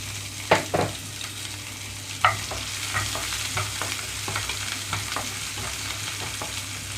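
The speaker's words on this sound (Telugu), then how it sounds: "తాలింపు అంతా చిటపటం అనేటప్పుడే ఉల్లిపాయలు పచ్చిమిరపకాయలు కూడా వేసి వేయించుకుంటున్నాను" Onions and green chillies frying in hot oil with crackling tempering seeds for a bottle gourd and chana dal curry, a steady close sizzle with a few sharp spoon scrapes against the pan, no voices.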